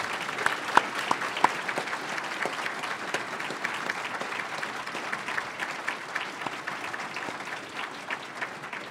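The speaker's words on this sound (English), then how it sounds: "Please join me in giving a round of applause for our 3 honorees today." An audience gives a round of applause for honorees at a college commencement brunch and forum, with steady, even clapping from a roomful of people that sounds fairly distant and soft.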